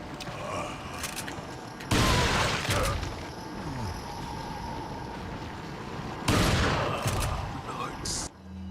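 In Resident Evil 4 on the GameCube, a shotgun fires several loud, booming blasts amid dense game noise and other bursts of gunfire, with a voice talking over parts of it.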